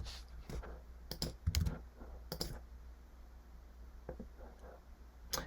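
Computer keyboard keys are pressed in short irregular clusters of crisp clicks, close and fairly quiet, with brief gaps between bursts.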